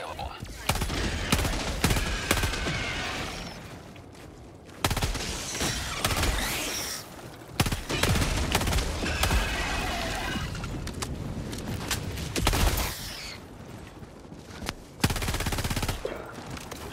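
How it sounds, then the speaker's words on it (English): An energy gun fires in the video game Helldivers 2 in loud, dense, rapid bursts that crackle and shatter across most of the span, with short pauses between volleys. "The energy gun just shreds these weak guys. Just melts them."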